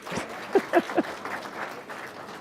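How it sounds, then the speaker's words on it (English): Meeting attendees at an evening equity impact analysis meeting give themselves a short round of applause, a few scattered claps standing out over a soft, thin patter. "Can you give yourselves a round of applause, please,"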